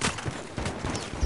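Video game gunfire rattles in a dense, continuous burst of rapid shots, loud and close, filling the whole brief moment.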